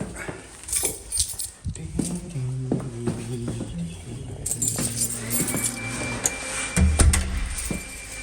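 Metal keys jangle and clink at close range as they are tried in a metal door lock, with irregular rattles and scrapes, a soft tonal hum in the background and a brief thump near the end.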